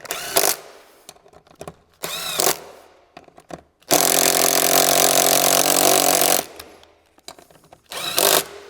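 A power drill drives bolts into the frame of a Neon SparkZ 48V 1200W electric dirt bike, whirring in several short bursts and one longer run of a few seconds, close and loud.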